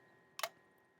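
A Kodak Brownie Target Six-20 box camera shutter gives a single quiet, crisp click in an otherwise silent room.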